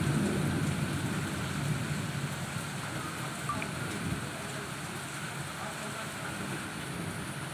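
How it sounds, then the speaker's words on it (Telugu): Heavy rain pours steadily during a thunderstorm, a dense, constant hiss with a low rumble underneath, faint overall. "ఉరుములు మెరుపులు చూడండి."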